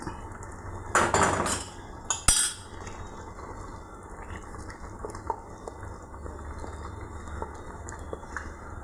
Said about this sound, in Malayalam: എന്നിട്ട് നമ്മൾ കടുക് വറുത്തച്ചെങ്കിൽ ഇതിലേക്ക് ഒഴിച്ചു കൊടുക്കാം.